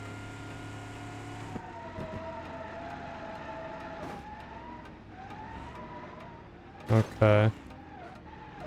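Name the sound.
all-wheel-drive muscle car engine in video game BeamNG Drive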